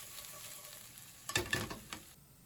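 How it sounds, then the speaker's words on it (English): Pork, onion and fried tofu stir-frying in a pan, a steady sizzle broken by a short cluster of louder scraping, clattering stirs in the middle before the frying settles again. "add the onion and stir-fry briefly"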